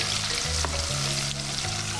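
Mushrooms and sliced baby marrow fry in a pan with a continuous close sizzle and crackle, a low hum running beneath, and no one speaking.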